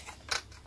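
Scissors make a single crisp snip through paper while a mini junk journal is trimmed, a short sharp cut that stands alone against a quiet background.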